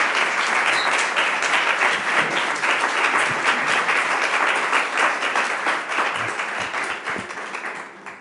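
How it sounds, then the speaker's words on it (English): A conference keynote audience in Vienna breaks into sustained, dense applause, a steady wash of many hands clapping that holds strong before gradually tapering off at the end. "Please give him a round of applause."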